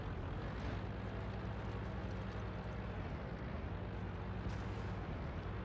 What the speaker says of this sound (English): I heard someone fire at me.